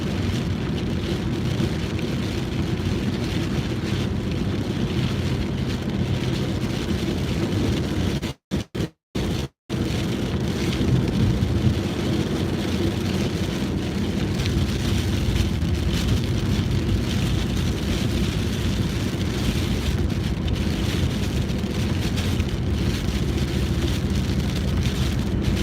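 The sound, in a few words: heavy rain during storm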